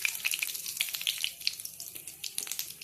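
A bay leaf fries in hot oil along with white cumin seeds in a wok. A bright, continuous sizzle carries scattered crackles and spits throughout, with no voices.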